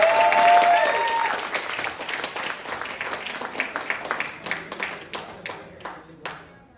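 A crowd at a youth bike awards night applauds loudly at first, then the clapping thins out into scattered individual claps that fade away.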